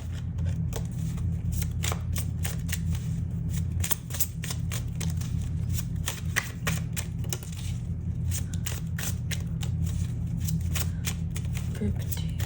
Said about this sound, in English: Start pulling some tarot cards for you.